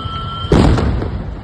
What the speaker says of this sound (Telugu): వామ్మో ఏం పేలుడు